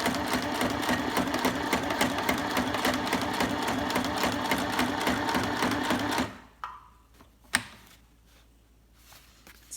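A We R Memory Keepers Stitch Happy sewing machine stitching paper runs in a steady rapid mechanical chatter for about six seconds, then stops, leaving a few faint clicks and handling sounds.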